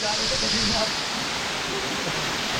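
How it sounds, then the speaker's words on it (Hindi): A roadside mountain waterfall on the route from Badrinath to Kalpeshwar roars as a loud, steady broadband rush of falling water, close and continuous, with faint voices beneath it. "बद्रीनाथ से कल्पेश्वर जा रहे थे तो रास्ते में पड़ा ये वाला झरना"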